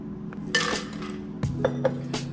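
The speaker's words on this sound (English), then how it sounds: "First mixture we're gonna pour into the glass." Sangria mixture with blackberries goes into a glass, giving a few sharp glass and dish clinks and knocks at close range, spaced irregularly over quiet background.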